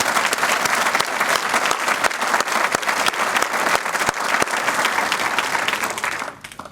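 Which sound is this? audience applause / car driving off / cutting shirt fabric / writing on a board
audience applause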